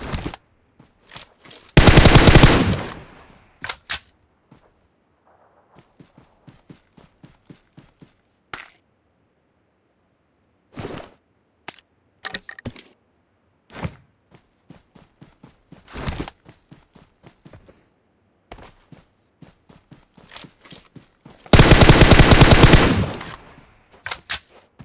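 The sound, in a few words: gunfire in PUBG video game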